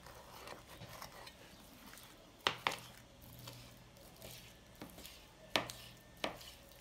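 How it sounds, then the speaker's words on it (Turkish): A knife chops raw chicken breast into small cubes on a cutting board, with sharp, irregular thuds in pairs and singles against a quiet kitchen background. "Tavukları kuşbaşı şeklinde doğrayacağız."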